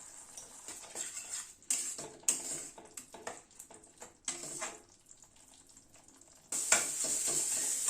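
Spice paste with ground fennel and salt is stirred in a pan, producing intermittent scraping and clinking of a utensil against metal over a low sizzle, ending in a louder, steady hiss.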